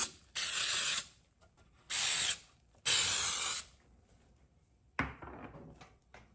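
Cooking spray hissing into a muffin tin for coconut rock buns: three loud, close bursts of aerosol spray, each about a second long with short pauses between, then a fainter, shorter hiss at the end.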